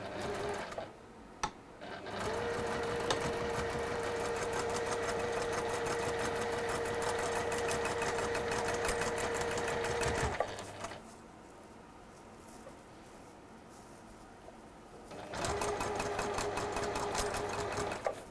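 A sewing machine stitches in long steady runs, a fast even mechanical whir with a rhythmic needle chatter, pausing briefly between runs, close and loud with no talk.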